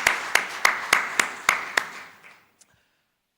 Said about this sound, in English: I would once again like to give a big hand of applause to every one of those women entrepreneurs in this room.